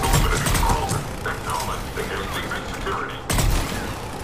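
Dense, continuous gunfire and muffled booms in Mass Effect 3 combat, a steady wash of shots with a heavier burst near the end; no speech is heard.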